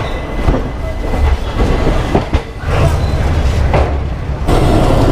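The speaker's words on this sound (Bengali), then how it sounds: "ঠিক 3:01 শিয়ালদহ স্টেশনের 12 নম্বর থেকে ট্রেন ছেড়ে দিয়েছে।" The Teesta Torsa Express pulls out of platform 12 at Sealdah station, a loud, steady rumble of rolling wheels with rhythmic clatter over rail joints and brief squeals, heard up close for several seconds.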